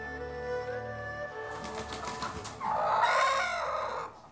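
Chickens on Kadoorie Farm cluck in soft, low, steady calls, then a rooster crows loudly and close by in one long drawn-out call.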